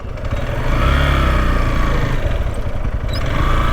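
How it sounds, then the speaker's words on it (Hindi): A motorcycle ridden forward near a gurdwara, with a loud, steady, close engine drone that holds throughout, with no talk. "चलो बाइक आगे ले जाते हैं जी"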